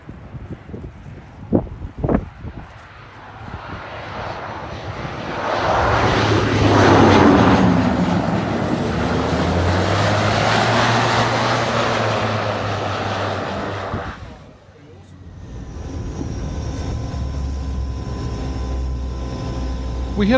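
Grumman Mallard seaplane landing on water, heard from a nearby vessel: a swelling propeller-engine drone passes close and loud with wind buffeting the microphone, dips briefly, then continues as a steadier engine hum.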